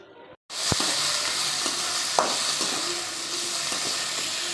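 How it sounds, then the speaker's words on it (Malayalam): Grated coconut roasts in a frying pan with a steady hiss and sizzle. A few spoon scrapes and clinks of stirring sound over it, close and moderately loud after a brief quiet start. "അങ്ങനെ നമ്മുടെ തേങ്ങയൊക്കെ വറുത്ത് വന്നിട്ടുണ്ട്."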